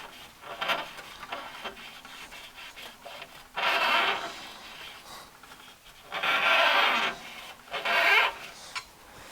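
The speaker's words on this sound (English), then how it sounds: "we're going to clean up those shafts a bit. Make sure they are as smooth as possible." Scotch-Brite pad scrubbing the shafts of a junkyard bandsaw, heard up close as rough, hissing back-and-forth rubbing in several bursts, the longest near the middle and end, with quieter scuffing between and no speech.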